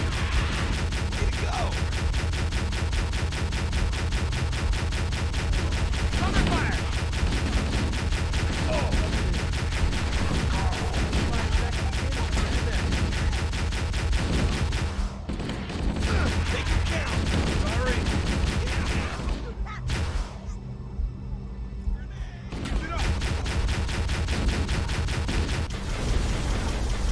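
Halo: Combat Evolved gameplay fills the clip with steady, dense gunfire and bursts of shooting, a continuous loud barrage that only briefly thins out near the end, while someone talks over it.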